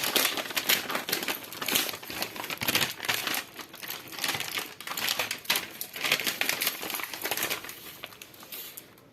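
A wrapped sheet of dried apricot paste (qamar al-din) is opened by hand, producing loud, close, continuous crackling and crinkling of the wrapper in irregular bursts, with no talk over it.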